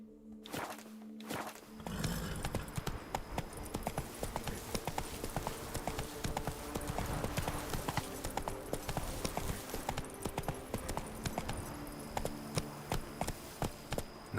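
Roach the horse in a video game trots with quick, steady hoofbeats on hard ground, close and rhythmic for over twelve seconds after a brief quiet start, with faint insect-like ambience underneath.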